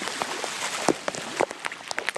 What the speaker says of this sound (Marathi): हदलवून आलाय पाऊस हा बघा